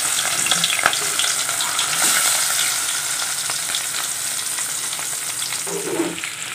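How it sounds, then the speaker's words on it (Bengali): Small puti fish fry in hot oil in a wok, giving a loud continuous sizzle and crackle with occasional clinks and scrapes from stirring, and no talking. "পুঁটি মাছটা ভাজা হচ্ছে।"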